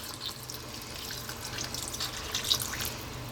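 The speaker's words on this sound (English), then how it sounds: "Now, just want to add a little bit more water," Water pours steadily into a pot of chicken stew with potatoes, a continuous splashing and trickling stream at moderate loudness with no talking.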